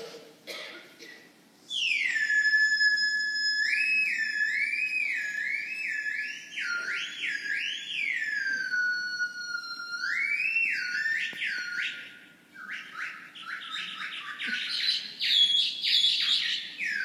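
A tchatsa, a shrill Mongolian whistle instrument, plays an imitation of birdsong: sustained, bright, warbling whistled phrases with rising and falling sweeps and trills, loud and close, continuing alone for many seconds.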